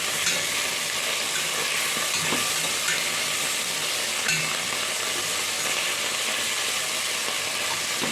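Beef stir-fries in a pan with a dense, steady sizzle and frying crackle that runs continuously and evenly throughout, close and moderately loud with no talking.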